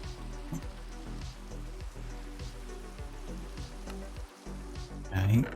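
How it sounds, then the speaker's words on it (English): Rain falling at night in the Minecraft video game, a soft steady patter with faint sizzling texture, low in the mix and continuous, with a brief dip before a slight swell at the end. "Skip through this rainy night."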